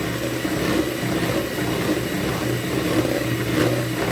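Steady, unbroken whirring of a kitchen blender mixing flour into plum cake batter, running at an even level from start to finish.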